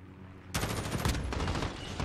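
Sudden loud burst of rapid automatic gunfire in a video game, starting abruptly after a quiet moment and continuing as a dense, close rattle.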